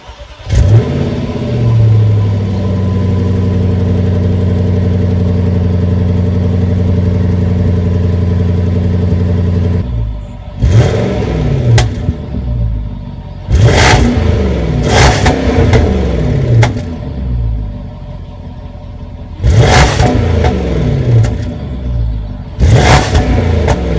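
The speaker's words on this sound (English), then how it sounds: "It growls and purrs and it features a really nice knocking effect. Now this is because of the superchargers" A 2010 Jaguar XFR supercharged V8 holds a steady drone, then revs hard in several sharp bursts. Each burst rises and falls back to idle in deep, loud, close growls with a knocking edge. No one speaks.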